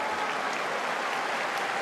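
A basketball arena crowd applauds steadily during a Euroleague game between Fenerbahçe and Žalgiris Kaunas, a dense, even wash of clapping throughout the moment.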